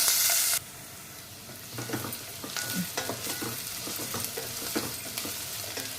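Sliced onions frying in oil with mustard seeds in a pan for egg pulusu curry, a steady sizzle broken by repeated stirring scrapes, close and moderately loud, after a brief louder hiss at the start.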